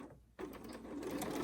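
A sewing machine stitches a pleated face mask, a quiet rapid whirring that starts after a brief pause and runs steadily to the end.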